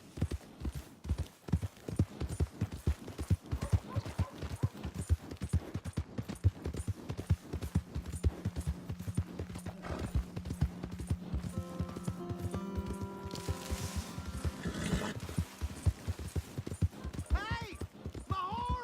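Horse hooves clip-clopping in the video game Red Dead Redemption, a brisk steady rhythm throughout, with brief game voices toward the end.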